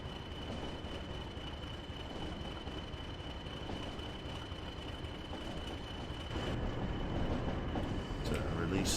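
In a train simulator video game, a passenger train brakes and coasts, giving a continuous rolling rumble with a faint steady whine and light rattles, growing slightly louder near the end.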